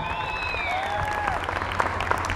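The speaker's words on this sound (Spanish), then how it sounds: "tenemos un muchacho bogotano, Andrés López, el aplauso para él" Audience applause at a joropo music concert in Colombia, a steady wash of clapping with a few brighter claps standing out, while a high melodic tone fades near the start.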